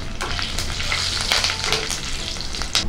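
Dried red chilli pieces, curry leaves and turmeric crackling in hot oil for a tempering: steady, loud, close sizzling with sharp spitting pops throughout, no voices.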